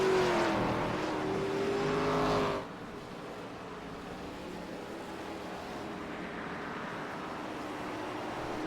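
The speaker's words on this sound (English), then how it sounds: "What a wild race in the ARCA cars." ARCA stock cars racing on the Lime Rock road course, a loud engine roar passing close early that drops to a steadier, more distant drone of cars circling the track.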